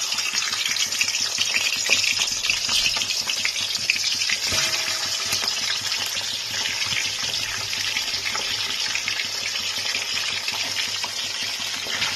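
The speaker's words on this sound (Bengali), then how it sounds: "মাছের মাথাগুলোকে আমি একটু কড়া করে ভেজে নিচ্ছি" Katla fish heads fry in hot oil with a steady, close, bright sizzle that holds evenly throughout, with faint stirring or clinks and no voices.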